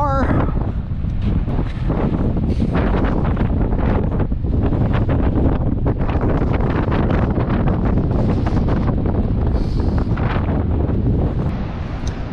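Strong wind buffeting the microphone on an Oregon coast beach near Lincoln City, a loud continuous roar with gusty rumbles and crashing surf underneath throughout.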